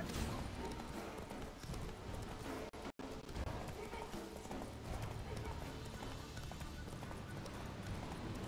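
Galloping hooves of Roach, a horse in The Witcher 3, pound in a fast, continuous rhythm beneath dense, loud in-game wind and ambience, with one abrupt brief dropout partway through.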